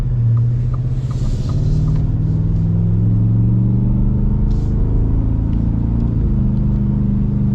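A 2023 Ford Raptor R rumbles while driving, its engine giving a loud, deep, steady drone from inside the cabin, holding an even pitch with a slight shift partway through.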